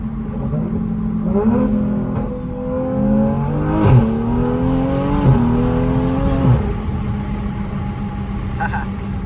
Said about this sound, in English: let's open up the exhaust